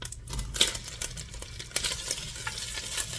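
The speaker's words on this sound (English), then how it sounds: "We're gonna fry up our sausage." Cubed sausage fries in oil at the bottom of a pot, with a steady close sizzle, crackle and occasional spatter, alone and fairly loud throughout.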